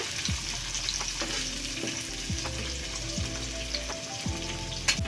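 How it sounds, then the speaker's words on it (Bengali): Onion and green chili frying in hot oil for dhania chicken, a steady close sizzle with a few spoon scrapes through the pan, no voices. "এবার পেঁয়াজ আর লঙ্কাটা একটু লাল করে ভেজে নেব"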